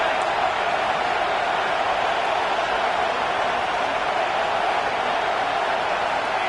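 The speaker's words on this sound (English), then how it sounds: "this crowd is turning it up a notch" A packed college football stadium crowd at a Texas A&M versus LSU game roars in a dense, steady wash of noise that holds at a constant loud level throughout.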